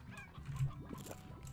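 A stony hen in the video game Slime Rancher gives quick, faint honking clucks in a brief cluster, set against soft game background sounds.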